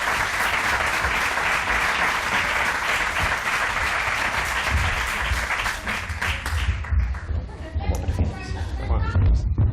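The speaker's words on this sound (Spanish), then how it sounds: "un aplauso fuerte para él" An audience applauds loudly for Dr. Benítez, a scientist at a science outreach talk, with dense sustained clapping that fades into scattered claps and a few voices near the end.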